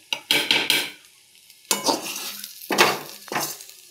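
Fried food is lifted from sizzling oil in a kadai, with bursts of crackling and metal scraping in several separate clusters and quiet gaps between them.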